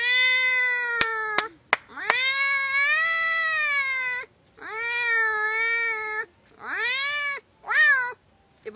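A man imitates cats meowing over food: a series of long, wavering, whiny meows, some drawn out and some short, with a few sharp clicks between them, close and loud.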